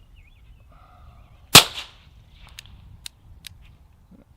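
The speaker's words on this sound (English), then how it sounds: "here we are with the Biddy on the Walther P22 using the suppressor ammo from CCI, their subsonic" A single sharp, fairly loud shot from a suppressed Walther P22 pistol firing CCI subsonic .22 LR ammunition, with a brief crack and short decay followed by faint mechanical clicks.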